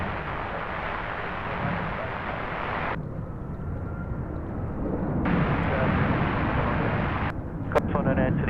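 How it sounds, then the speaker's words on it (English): An Emirates A380 airliner at Sydney Airport at night gives off a steady, broad jet roar that drops away briefly and swells again. Radio chatter and talking run over it, and sharp clicks come near the end. "here we go, the Emirates A380"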